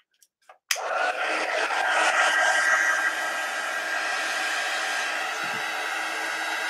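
After a few faint taps, a hair dryer switches on abruptly and blows steadily on a freshly painted bunny tag. Its close airy whir holds level to the end, with no one talking.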